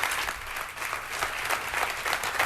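A small audience at an Apple product event claps steadily, a dense patter of hands with no voices, moderately loud and sustained throughout.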